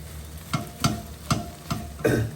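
A potato and pea tortilla mixture sizzles softly in a frying pan while a utensil stirs it, giving five distinct scraping knocks at a steady pace over the constant low frying hiss.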